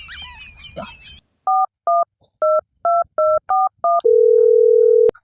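A telephone is dialed to call a village headman in a rural Gujarati comedy: after brief talk, seven crisp keypad tones beep in a quick, even sequence, followed by a long steady tone.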